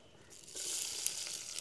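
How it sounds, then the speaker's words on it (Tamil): Fenugreek, onion and chili drop into hot sesame oil in a pan and fry with a sudden close crackling sizzle that starts partway in and stays steady and fairly loud. "இப்போ நாங்கள் போட்டு வதக்க போகிறது வெந்தயம், வெங்காயம், அதே மாதிரி மிளகாய் இவ்வளோத்தையும் போட்டு வதக்குவோம்."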